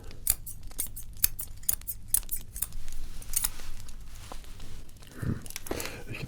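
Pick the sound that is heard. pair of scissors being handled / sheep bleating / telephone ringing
pair of scissors being handled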